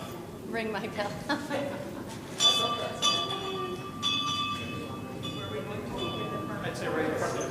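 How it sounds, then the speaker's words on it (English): Hand bells ring at a school committee meeting, bright chiming strikes repeating irregularly over a room full of people talking. "let's ring the bell for education"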